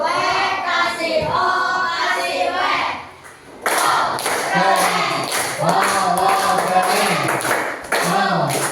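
Classroom pupils clapping for a student group, bursts of claps mixed with children's voices chanting and calling out together, a brief pause midway, then louder clapping and voices.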